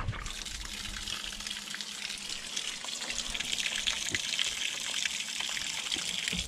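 Water gushing steadily through a pig waterer's nipple line as it is flushed out, a continuous close hiss and trickle with no talk.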